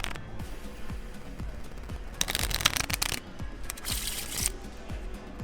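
Playing cards being shuffled up close, with bursts of rapid riffling and crisp flutters, interspersed with soft taps and handling noises.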